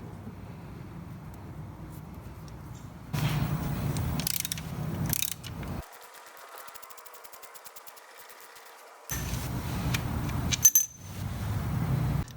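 Ratchet clicks and metallic turning on the bolts of a Shovelhead primary cover on an AMF Lowrider, heard in short close bursts separated by quieter pauses.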